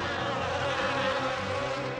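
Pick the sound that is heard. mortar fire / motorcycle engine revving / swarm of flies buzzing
swarm of flies buzzing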